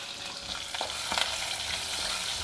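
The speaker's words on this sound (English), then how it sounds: "and stir fry the onions" Shallots stir-fried in hot oil with dry red chili and curry leaves, a steady close sizzle with scraping stirs, no talk.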